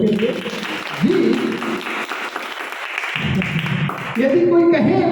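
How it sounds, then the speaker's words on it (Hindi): A church congregation breaks into applause, a broad wash of many hands clapping, while a voice speaks over it at times, loud and close. "यहाँ मेरा दिल कर रहा है कि आप लोग तालियां बजाएं प्रभु के लिए जी।"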